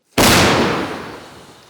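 A single loud, close artillery blast near Bakhmut erupts after a moment of quiet, then rumbles and slowly fades.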